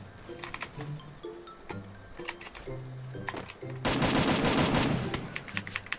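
Rapid bursts of gunfire in the Free Fire battle royale game, sharp repeated shots in short volleys, then a dense, louder stretch of continuous firing near the end, loud and close.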